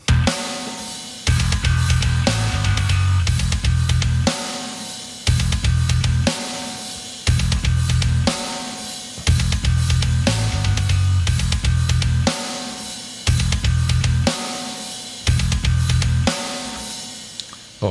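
A symphonic metal song's full band mix with drums and bass plays loud and dense, driving in repeated sections with brief breaks between heavy bursts.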